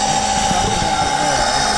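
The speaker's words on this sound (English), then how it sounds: "Got a battery here hooked up to a pump, pumping oil in there." A battery-powered pump pushing transmission oil into an Argo ATV during servicing, producing a steady, close mechanical whine and drone with a constant tone, with no break across the short stretch.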